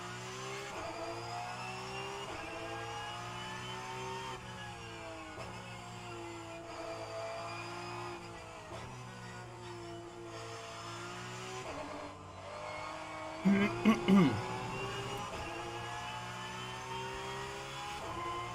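Porsche Cup race car engine at Zandvoort's banked circuit in a racing game, a steady high-pitched engine note rising through the gears with repeated upshifts and brief drops, plus a short burst of clattering near the end.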